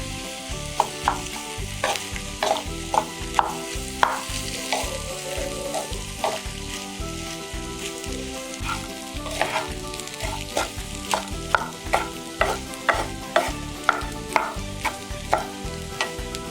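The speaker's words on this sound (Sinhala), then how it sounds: "දැන් මම මේක හොඳින් කවලම් කර ගන්නවා." Sauce for chicken pasta stirred and mixed in a hot pan: a constant sizzle with repeated rhythmic scraping and clacking strokes of the utensil, close and with no voices.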